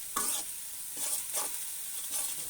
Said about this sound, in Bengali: তো মশলাটাকে এখন কষিয়ে নেব ভালোভাবে